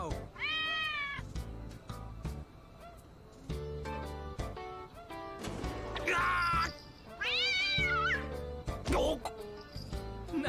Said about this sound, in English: The cat's doing it. I think he wants to go outside.